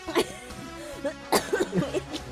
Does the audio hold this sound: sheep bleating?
no